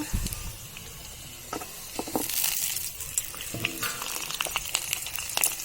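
Cauliflower and potatoes frying in oil with five-spice seasoning, a soft sizzle under repeated scraping and clatter of a spoon stirring the pan, close and moderately quiet.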